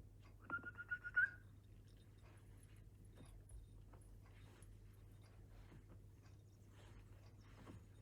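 A person whistles sharply a few times in quick succession, calling someone over the way one calls a dog, in a scene from a TV show, followed by quiet room tone with faint movement.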